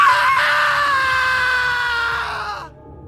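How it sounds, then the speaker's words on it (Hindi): A single loud, piercing human scream rings out inside a cave, held for nearly three seconds before it cuts off abruptly, with no talking around it. "पीछे से राजू की एक जोरदार चीख पूरे गुफा में गूंजने लगी"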